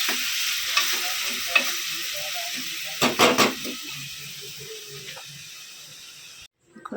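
Paneer bhurji tipped into a hot pan and stir-fried: a steady sizzle and hiss with scraping stirs and a burst of louder spatter midway, close up, ending abruptly.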